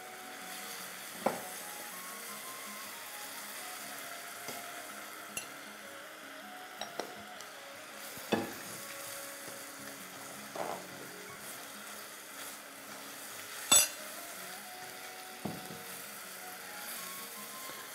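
Round potato slices fry in hot oil with a soft, continuous sizzle, broken by occasional sharper clicks and clinks of a utensil against the pan, close and fairly quiet throughout.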